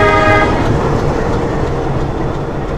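Metre gauge freight train at Dudhwa railway station, heard as a loud, steady rolling rumble of wagons with a short sustained horn toot at the start.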